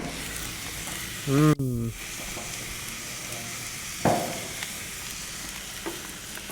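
Burgers fry in a pan with a steady sizzle throughout, a brief metallic clank and hum of a voice partway through, then a short spatter of flaring fat.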